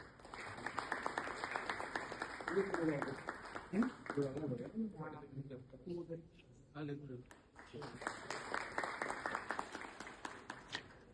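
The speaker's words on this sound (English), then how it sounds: "Please give a round of applause." Audience applause at an event welcoming the director of a heart research institute, a steady crackle of many hands clapping across most of the stretch, with a brief lull and voices in the middle before the clapping swells again.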